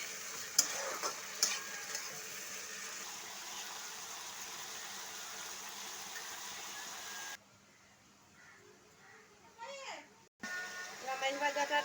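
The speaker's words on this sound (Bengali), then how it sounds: "এইবার রামাইশ ভাজাগুলো একটু নেড়ে দেব।" Rohu fish pieces frying in hot oil are stirred in a pan, a continuous sizzle with scraping and clinks, then the sound drops sharply as a lid covers the pan, followed by faint clatter.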